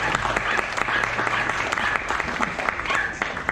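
An indoor audience at a popular science lecture on lasers applauds to welcome a tired physicist speaker, dense sustained clapping from many hands with faint murmurs underneath.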